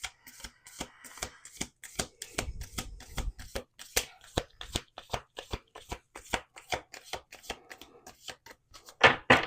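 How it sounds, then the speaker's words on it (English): Tarot and rune oracle cards are shuffled by hand in quick, repeated riffling bursts, crisp papery slaps close up with no talking. "I shuffle and I show you the cards"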